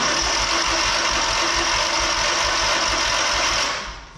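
A restarted engine idles steadily, with a rhythmic knocking chug close to the microphone that stays constant before the sound cuts off abruptly at the end.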